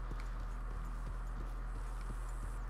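Horse hooves clip-clop in the Red Dead Redemption 2 video game, a steady rhythm of about eight evenly spaced hoof strikes over a constant low engine-like hum, with no talking.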